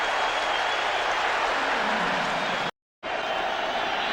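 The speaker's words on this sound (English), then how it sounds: "Listen to this crowd now." Loud, dense roar of a football stadium crowd at a Giants vs Lions game, a steady wall of cheering and noise that cuts out abruptly for a moment near the end before resuming.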